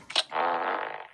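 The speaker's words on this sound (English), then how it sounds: "you gotta stop farting, it's disgusting" A single close, loud fart follows a quick sputtering start, stretches out as a buzzy, raspy blast for about a second and then tapers off.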